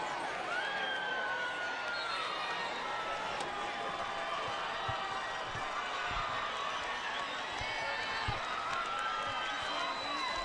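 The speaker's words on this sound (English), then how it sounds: "The LCC crowd is really fired up." An LCC crowd at a high school varsity football game against Haslett in 2005 cheers in a steady, distant roar, with an announcer's voice talking over it throughout.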